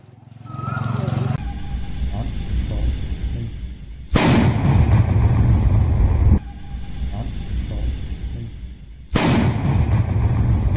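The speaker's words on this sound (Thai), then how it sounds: "แล้วจุดระเบิดเพื่อทำลายทิ้งครับ" Loud deep booms from the controlled detonation of a roadside bomb in Thailand break out in bursts, each a heavy blast followed by a long rumbling roar that carries on before fading.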